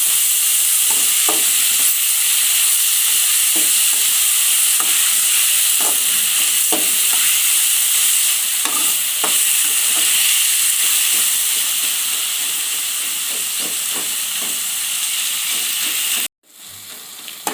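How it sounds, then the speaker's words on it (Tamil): Chopped tomatoes sauté in a hot pan for a pepper chicken curry. A continuous loud sizzle and hiss runs throughout, with scattered stirring clicks, then cuts off abruptly near the end. "தக்காளியை நல்லா வதக்கி விடுங்க"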